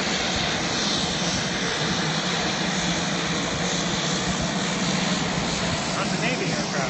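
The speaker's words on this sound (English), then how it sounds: "That's a Navy aircraft there." A Navy fixed-wing aircraft passes over Lakefront Airport in New Orleans, a steady broadband engine roar that fills the clip at a constant loud level, with voices talking faintly underneath.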